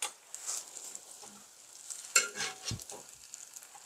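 Acorn jelly rice cake grilling in perilla oil in a pan, a faint soft sizzle with a few light scrapes and taps as pieces are turned.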